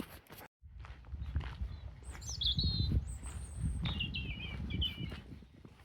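Birds call in St Leonards Forest with thin, high chirps and warbling tweets at middle distance. Crunching footsteps on a woodland path run close and steady beneath them.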